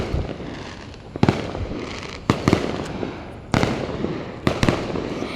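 Firecrackers and fireworks set off at night behind nearby houses: four or five separate sharp bangs with crackling tails, spaced a second or so apart, heard from some distance over steady background noise.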